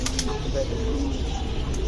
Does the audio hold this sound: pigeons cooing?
yes